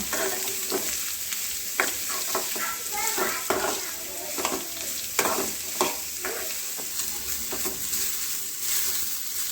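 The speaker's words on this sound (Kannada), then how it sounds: "ಇವಾಗ ಆನಿಯನ್ ಹಾಕ್ಕೊಬೇಕಾಗುತ್ತೆ, ಚೆನ್ನಾಗಿ ಫ್ರೈ ಮಾಡ್ಕೋಬೇಕು." Onions frying in hot oil in a pan for a tempering, a continuous close sizzle broken by rhythmic scraping strokes of a spatula, moderately loud with no talk.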